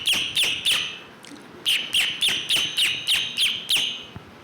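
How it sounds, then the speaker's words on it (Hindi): A small bird chirps in quick, bright repeated notes, two short bursts then a steady run of about eight evenly spaced calls, close and clear with no talk. "चिड़िया चहक रही है"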